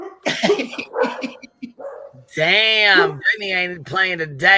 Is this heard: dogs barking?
yes